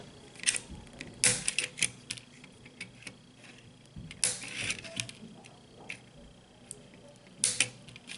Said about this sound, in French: on prend une pince et on va aller couper l'excédent de nos attaches